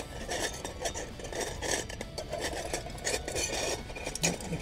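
A Boundless Voyage alcohol stove being opened up, a continuous metallic rattling and scraping of small parts, close by with no talking.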